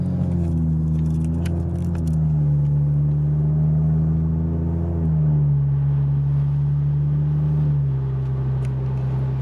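A BMW M235i with a Fabspeed straight pipe drones steadily from inside the cabin under low acceleration, a loud deep exhaust tone that holds, then drops and settles at a lower pitch.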